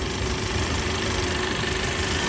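A 2019 Ford Edge SEL engine idling, a steady even hum and rumble heard close, with no talk over it.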